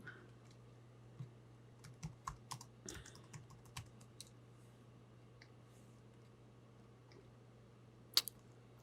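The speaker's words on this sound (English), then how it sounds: "We'll type in inky stripe." Computer keyboard typing, quiet scattered clicks in short bursts over a low hum, followed by a pause and one sharper click near the end.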